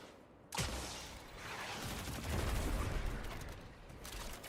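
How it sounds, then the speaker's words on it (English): A fast-firing automatic weapon in a video game opens up after a brief quiet moment, then gives a dense, continuous volley of rapid shots at moderate loudness. "It's probably just a hand cannon of some kind. Like a fast firing auto."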